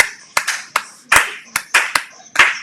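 A church congregation applauds, close and loud, with sharp overlapping hand claps in an uneven, lively rhythm and no voices heard over the clapping.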